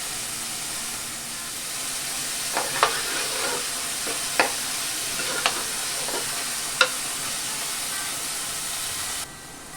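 Onions fry in a pan with a steady sizzle and hiss, broken by a few sharp clicks and scrapes of stirring.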